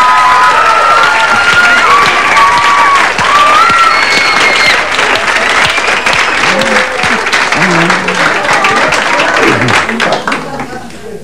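A studio audience breaks into loud, sustained applause with some cheering, a dense wall of clapping that fills the whole stretch, with voices carrying over it.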